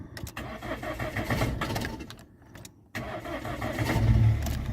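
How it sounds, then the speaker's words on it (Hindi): A car engine is cranked with the key and catches, with rough mechanical churning, a brief drop to near silence, then a steady idling rumble that swells toward the end. "ये हमारी गाड़ी होगी अब स्टार्ट"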